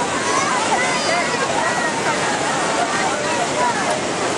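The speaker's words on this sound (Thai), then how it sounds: "น้ำตก" Niagara Falls roars in a dense, constant wash of crashing water, loud and close and unbroken throughout.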